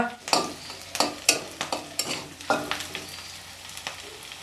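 Fish frying in a pan with a bright crackling sizzle, punctuated by a quick series of sharp spatula scrapes and taps at a lively uneven rhythm, close and fairly loud.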